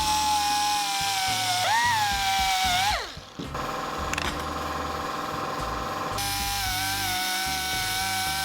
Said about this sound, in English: I could actually just grind this flat and these will fall off